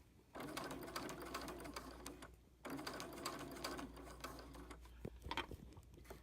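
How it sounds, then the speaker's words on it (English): A sewing machine stitches binding in close, steady bursts, its rapid mechanical chatter pausing briefly before starting up again. "me just sewing"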